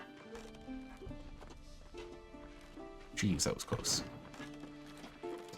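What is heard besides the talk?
ponies running, hoofbeats, from the video game WarTales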